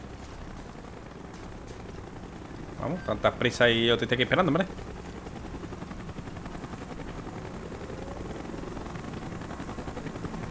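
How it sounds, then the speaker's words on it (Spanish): A helicopter in Call of Duty Black Ops swells into a loud, choppy rotor burst for nearly two seconds, then drops back into ambient game noise while someone talks throughout. "¡Helicóptero en camino!"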